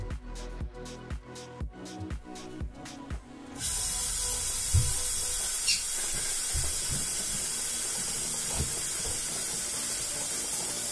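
Water rushes through a gas water heater as a sudden, steady loud hiss that starts a few seconds in, preceded by rhythmic knocking and clicks.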